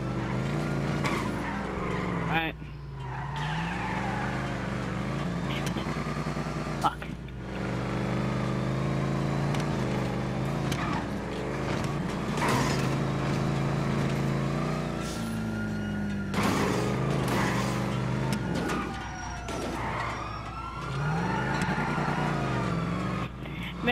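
A car in GTA 5 Online drives continuously with a loud engine drone and repeated tire squeals and skids, close and steady throughout, with some talk over it.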